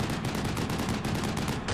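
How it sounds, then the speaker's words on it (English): Rapid automatic grenade-launcher fire from a Stryker's Mark 19 in the war game Combat Mission Shock Force 2, a dense, steady burst of booming shots that fills the whole moment at close range. "That one's got a Mark 19. Yes, it does. And shooting out ahead there at the sniper."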